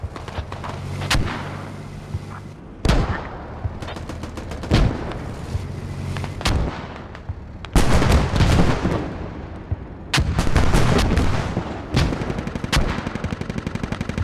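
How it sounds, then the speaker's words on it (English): Mortar and gunfire erupt in a tactical shooter video game match: loud, sharp blasts and rapid bursts of shots come in clusters, with brief quieter gaps between volleys. "Mortars took down our enemy north of Empire"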